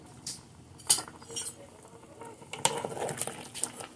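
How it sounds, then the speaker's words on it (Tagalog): Beef pata nilaga with beans and onion stirred in a pot, with metallic clinks and scrapes of a utensil against the pot at uneven intervals, close and fairly loud, with bubbling patter beneath. "Haluin natin."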